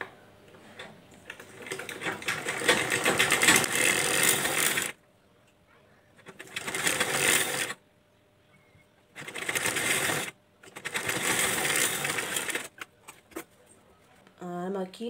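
A sewing machine stitches blouse pieces together in rapid, steady bursts of running stitches, three or four runs separated by pauses, with someone talking in between.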